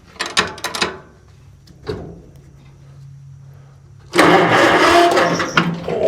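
A barn-find John Deere Model 40 tractor, under restoration, gets cranked: a few clunks and mechanical knocks, then a low hum, before the engine turns over loudly and keeps churning close by.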